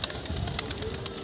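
Pigeons let out of a rooftop loft in the mid-afternoon, with a steady run of bird sounds and soft repeated flutters close by, under faint background noise.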